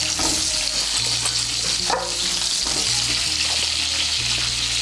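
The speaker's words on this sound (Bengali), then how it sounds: "এই তেলের মধ্যে পটলগুলো ভেজে নেব" Peeled, chopped pointed gourd pieces fry in hot oil, giving a dense, continuous close-up sizzle with a brief stir or clatter near the middle.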